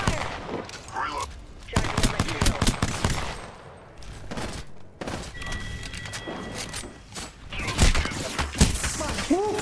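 Automatic gunfire in Apex Legends, with rapid bursts and single shots firing on and off over the clip, mixed with game effects and bits of in-game voice lines.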